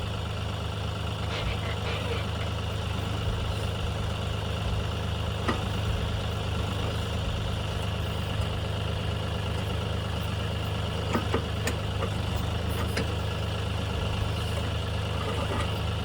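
A backhoe's diesel engine runs at a steady idle nearby during a farm barn build, a constant low rumble throughout with faint occasional voices in the background.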